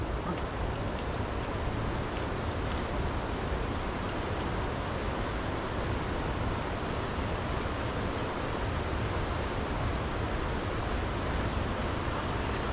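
Broadband steady rush of a river flowing beside a tribal village in Chinnur, continuous and fairly loud throughout with no voices.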